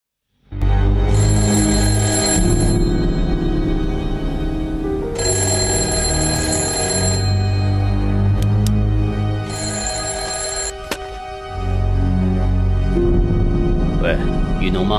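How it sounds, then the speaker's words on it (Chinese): An old-style telephone bell rings in loud repeated bursts with short pauses between them, close by, while a low music score plays underneath in a dramatic scene. "赶紧给我接雨农电话。"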